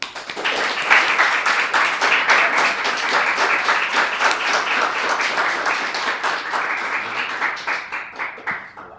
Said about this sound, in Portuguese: Eu quero pedir uma salva de palmas para o Lee Taylor.